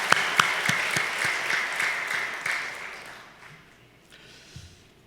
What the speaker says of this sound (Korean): 하나님께 영광과 감사의 박수 올려드리겠습니다.